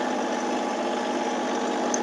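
A Massey Ferguson tractor engine idles smoothly and steadily, a continuous close mid-pitched hum with little vibration and no talking over it.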